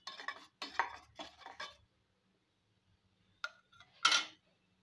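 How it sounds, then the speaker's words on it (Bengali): Taro stolons and prawns being mixed with mustard oil in a bowl, with three quick bursts of stirring and utensil clinks, a pause, then two more scraping clatters, close and fairly quiet. "আর একটু মিশিয়ে নিচ্ছি।"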